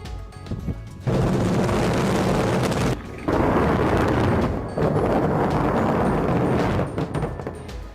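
A deep, roaring dynamite blast rumble in an open-pit mine that swells and sustains for several seconds, with a brief dip and then continued heavy, distant-sounding roar.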